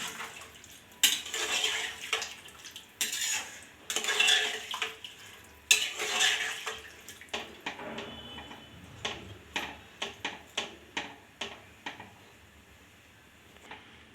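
Rice and water being stirred together in a pressure cooker for veg dhone biryani, heard as irregular clinks and scrapes of a spoon against metal, with short splashy bursts at first and then sparse tapping that grows quieter.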